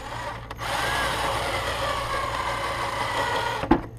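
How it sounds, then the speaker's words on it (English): A power drill boring a pilot hole into the top of a car tail light dome on a Dodge Avenger, a steady close whine running about three seconds before stopping with a brief clunk. "drill in your pilot hole"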